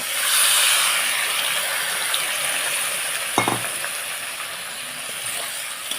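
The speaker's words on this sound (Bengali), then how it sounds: "এবার আগে থেকে নুন হলুদ মাখিয়ে রাখা থোটটা ঢেলে দেব" Chopped banana stem coated in salt and turmeric hitting hot spiced oil, a steady close sizzle and hiss with one brief clink of a utensil midway.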